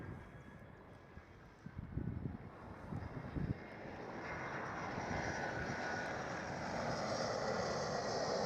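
An EasyJet Airbus A320 at Schiphol, its engine noise starting faint and distant, with a few rumbling bursts, then swelling into a steady, louder jet roar that builds toward the end.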